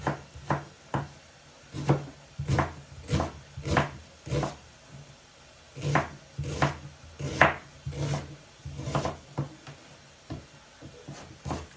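Rapid knife chopping of garlic finely on a board, crisp repeated taps in irregular bursts, close and clear with no talking.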